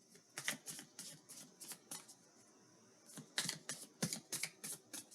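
A deck of herbal tarot cards is shuffled by hand in quick riffling bursts, crisp papery flutters in two rapid runs separated by a short pause, close and fairly quiet.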